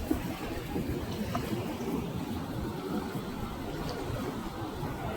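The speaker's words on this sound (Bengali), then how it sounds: "প্রচণ্ড বেগে ঢেউ উঠছে আর প্রচণ্ড বাতাস এখানে।" Sea waves and strong wind at midnight on the beach at Cox's Bazar, a dense continuous roar and rush with heavy wind buffeting the microphone, steady and fairly loud throughout.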